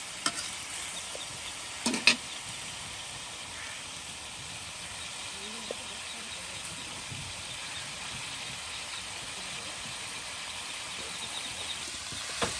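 Chicken pieces fry with onions in a pan, giving a steady, moderate sizzle throughout, with a couple of brief clinks from stirring near the start.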